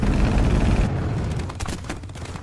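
Burst of aircraft gunfire in a combat action movie, a dense booming roar that cuts off after about a second, followed by fainter rattling reports and rumble.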